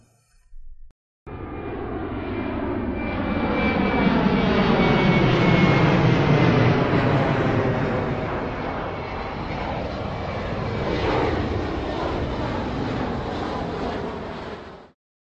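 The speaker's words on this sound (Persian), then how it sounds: "انسان در قرن حاضر موفق به ساخت هواپیماهای فوق صوت شده است" Jet airplane flying past, a loud sustained roar that swells to a peak and slowly fades over about fifteen seconds, heard alone with no speech.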